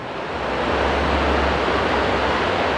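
Water runs in a stream between houses in a small Swiss village near Bad Ragaz, St. Gallen, a steady, loud rushing wash that fills the scene without a break.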